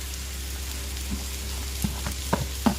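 Curry leaves and coriander leaves hit hot oil in a pan for masala khichdi, giving a steady low sizzle with a few sharp crackles and pops near the end.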